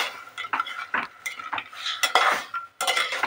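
A spoon scrapes and clinks against a pan while banana flower curry with chana is stirred, irregular quick strokes close up with no talk.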